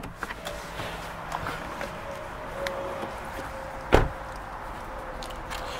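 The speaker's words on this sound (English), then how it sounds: "the car also features electrically folding door mirrors as well" A faint electric motor whirs steadily for a few seconds as a Vauxhall Mokka's door mirrors fold electrically, then a sharp mechanical clunk sounds as the movement stops, with a quiet background.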